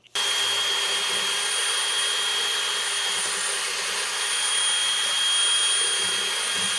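A power tool zips a nut off a tie rod end on a 2009-2013 Toyota Matrix, holding a loud, continuous high whirring whine for nearly seven seconds without any talk.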